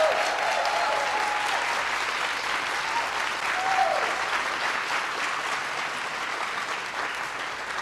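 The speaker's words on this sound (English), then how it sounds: "give a round of applause for the President and the First Lady of the United States of America" Sustained, dense applause fills the room for the President and First Lady at a COVID-19 remarks event, steady and even from start to finish.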